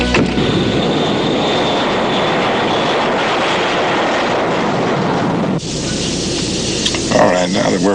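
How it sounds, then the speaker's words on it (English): Steady loud roar of a White House jet aircraft engine filling the scene, broadband and continuous, with a brief dip and shift in tone near the end. "There's a jet waiting at the airport. It's a White House jet"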